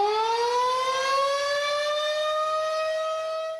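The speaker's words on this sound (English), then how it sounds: "when these sirens go off, usually that means trouble is in the air" A loud, steady tornado warning siren wails in a long unbroken tone, its pitch sliding slowly upward and holding, with nothing else audible.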